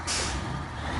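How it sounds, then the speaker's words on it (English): A heavy truck in the Snowrunner video game lets out a short, sharp hiss of excess air from its brakes, followed by a low engine rumble in a brief close burst. "the way you hark on those brakes, you can just hear the brakes. You've got all the excess air escaping the truck as well."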